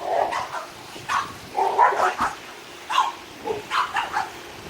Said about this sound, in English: Mind my dogs. They're having fun barking at the neighbors.